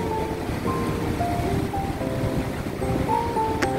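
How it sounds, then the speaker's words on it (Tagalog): Strong wind gusts under an overcast, rain-threatening sky on a town street, a steady broadband roar of wind noise buffeting the microphone throughout, with faint tonal traffic or background sounds underneath. "malakas po ang hangin, makulimlim, mukhang uulan."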